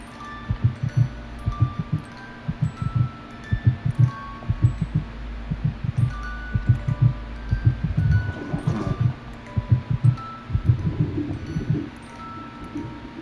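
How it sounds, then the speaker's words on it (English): A video game heartbeat effect, deep and steady, thumping in regular double beats under a low ambient hum, with no voices over it. "Alright, this is heartbeat."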